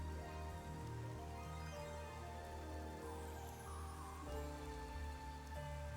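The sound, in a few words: rain falling in the video game Raincode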